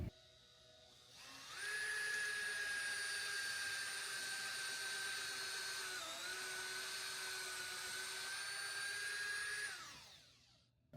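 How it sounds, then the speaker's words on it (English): A power drill bores holes in wooden coffee table apron boards, spinning up to a high, steady whine that holds for about eight seconds with a brief dip partway, then winds down, alone and close. "drill out the rightmost hole here"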